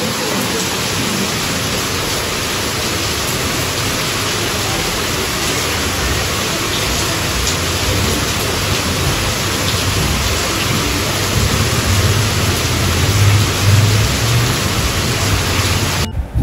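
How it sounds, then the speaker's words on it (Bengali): Heavy rain pouring outside a home in Bengal, a dense, continuous hiss that stays loud and steady throughout, with a slight swell near the end and no voices. "তো বেশ ভালো রকম বৃষ্টি হচ্ছে।"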